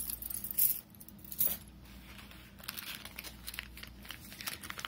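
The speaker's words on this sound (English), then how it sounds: "these are the EMCA industrial keys, another cuff key, a bunch of crazy lockout keys, some Marshall keys for automotive attacks" A bunch of locksmith keys, including industrial cuff keys, lockout keys and automotive Marshall keys, jangles and clinks close by as they are handled, with two louder metallic bursts early and then lighter rustling and clinking.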